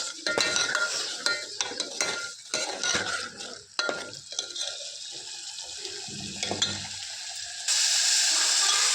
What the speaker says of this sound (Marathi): मसाला टाकलाय मी पातेल्यात तेलात चांगला मसाला भाजून घ्यायचा